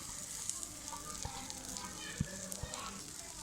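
Lentils and onion sizzle steadily in a frying pan, with a few soft scrapes and knocks of stirring over the continuous crackle, fairly quiet and close.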